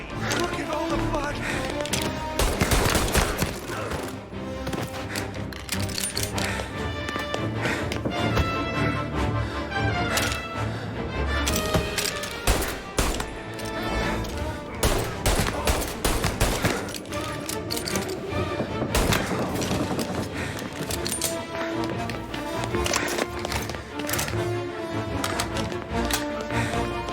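Gunfire during a shootout in the video game Mafia Definitive Edition: dense, rapid shots and bursts cracking continuously over a loud musical score, with voices speaking intermittently throughout.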